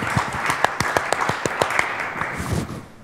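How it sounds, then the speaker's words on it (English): A conference audience breaks into applause, dense overlapping claps at moderate distance that fade out toward the end. "Steve, hey, you can clap."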